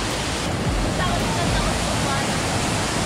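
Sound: Daranak Falls waterfall in Tanay, Rizal

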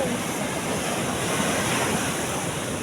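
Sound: ocean waves

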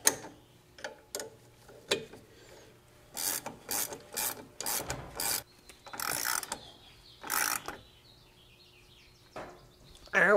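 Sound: wrench tightening VW Beetle shock absorber nut

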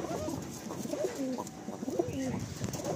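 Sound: male pigeon cooing

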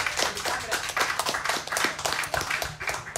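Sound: audience round of applause

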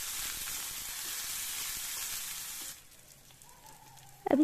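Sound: frying sliced onions, green chili and garlic in a pan

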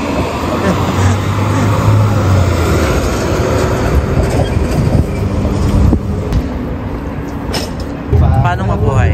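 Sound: train passing

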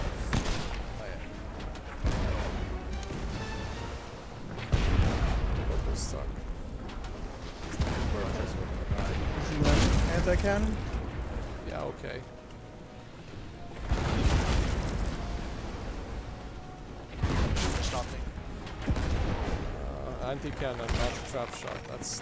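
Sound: cannon fire in the video game Blazing Sails

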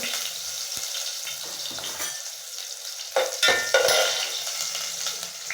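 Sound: onions frying in hot oil with mustard seeds

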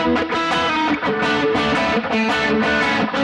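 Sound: electric guitar through a high-gain overdrive pedal

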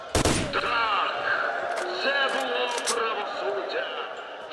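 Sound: machine gun fire in video game S.T.A.L.K.E.R

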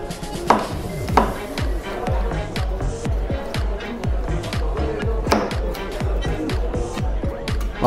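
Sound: chopping meat into small pieces

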